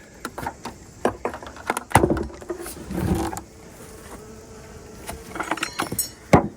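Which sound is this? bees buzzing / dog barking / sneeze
bees buzzing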